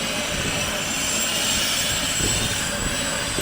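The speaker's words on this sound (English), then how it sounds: "Had a plane coming in for a landing." Fixed-wing airplane coming in to land at an airport in Colombia, a steady engine drone heard from a distance, loud and continuous under broad outdoor noise.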